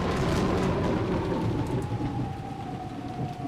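Steady, heavy rain pours down alongside a low, continuous rumble of thunder in a visual novel scene, loud and close throughout, with no voices.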